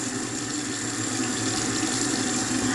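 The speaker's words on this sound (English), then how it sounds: "Don't be like me and leave your water running." Water pours steadily from a bathroom tap into a sink, a constant close hiss and splash with no breaks.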